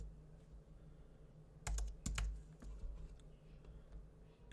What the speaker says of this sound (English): let's type another P